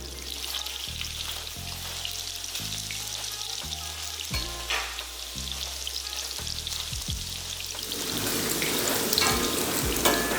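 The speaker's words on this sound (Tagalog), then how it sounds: "Mga 2 to 2 and a half minutes na pagprito sa bawat side para nung sa ganun maging medyo crispy lang yung outer part" Pancit toppings frying in oil until crisp, a steady bubbling sizzle that swells louder in the final seconds, with low background music underneath.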